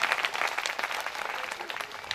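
Dense applause from an audience at a Hindu devotional discourse on the Bhagavat Katha, steady broadband clapping sustained for about two seconds without pause.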